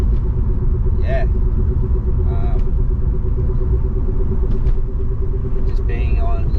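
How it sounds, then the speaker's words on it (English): Interior of a car on low springs and low shocks while driving, with a constant loud road rumble, occasional bumps and a whine from the rear differential running underneath. "it's a bit of road noise and bumps, and you can hear that diff in the back and still making that noise"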